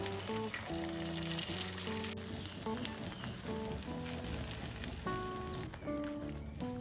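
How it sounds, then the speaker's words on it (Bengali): Egg batter crackles softly in hot oil in a pan, a faint continuous sizzle under steady tonal background music, with no talking. "কিছুটা ডিমের গোলা দিয়ে দিলাম।"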